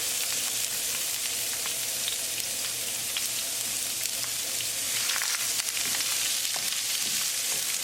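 Onion fries in olive oil in a pan, giving a dense, continuous sizzle and crackle at steady loudness throughout, with no voices.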